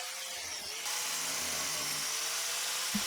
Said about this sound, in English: This carbide disc is rather aggressive, it's a medium to coarse grit, so I'm doing very light passes